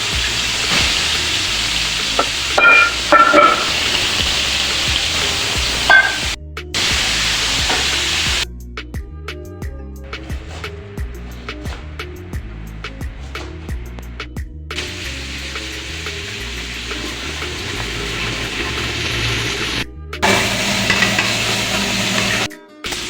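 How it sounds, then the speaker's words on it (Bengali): Chicken pieces sizzle loudly in hot oil for biryani, a close, continuous frying hiss with intermittent clatter and stirring; the sizzle drops briefly in places before resuming, with no talking. "তো গাইস অয়েল গুলা গরম, এখন অলরেডি মাংস পিসগুলা অয়েলের সার দিয়ে"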